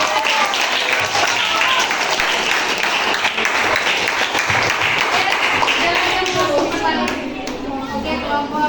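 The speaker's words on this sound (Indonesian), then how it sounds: "Oke, tepuk tangan." Classroom audience of students clapping during a biology class presentation, dense steady applause lasting throughout with children's voices mixed in, easing slightly near the end.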